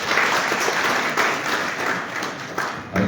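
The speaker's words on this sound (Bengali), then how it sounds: "আসুন দুজনকে আমরা করতালি দিয়ে শুভেচ্ছা জানাই" Audience applause at a book launch event, a dense, loud burst of clapping from many hands that holds steady throughout.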